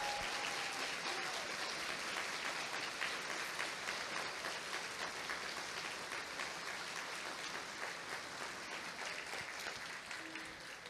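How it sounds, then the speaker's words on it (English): A banquet audience gives sustained applause for student and teacher honorees, a dense steady clapping that fills the room evenly and tapers slightly toward the end. "let's give them a big round of applause"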